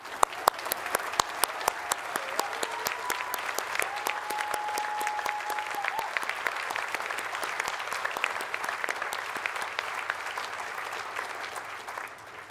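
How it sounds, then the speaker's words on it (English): Sustained applause from a large audience at a university summer graduation ceremony in Aberdeen, dense steady clapping with a few sharp claps standing out, continuing evenly for about twelve seconds before cutting off. "So I think we should give them a round of applause."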